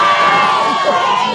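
A large crowd of young people at an ANC Eastern Cape Girl Child Dialogue finals event screams and cheers loudly and continuously, with high shrill voices blending into one sustained roar.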